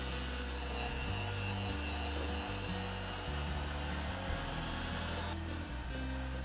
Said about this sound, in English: I can up the mixer speed and really let this cream up for a good minute or two.